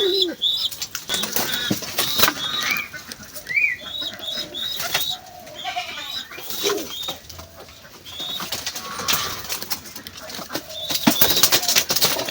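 Pigeons flap their wings in several short bursts near the microphone, mixed with soft cooing and chirps against a busy background.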